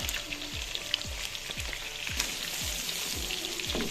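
Chopped garlic with ginger and green chilli sautéing in a pan for a white lobia masala curry: a steady, quiet sizzle broken by regular spoon scrapes about every half second. No voices.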